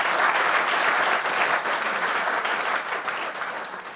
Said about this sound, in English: a big round of applause for Technoforce